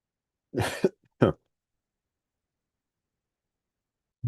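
Two sharp, close coughs in quick succession, followed by a long silence and the start of a third cough at the very end.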